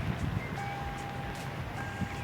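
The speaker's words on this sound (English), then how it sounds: "Excuse the beeping." A chime beeps steadily and faintly inside a vehicle once its ignition is switched on, with an OBD2 scan tool plugged into the port, over a low hum of background noise and no talk.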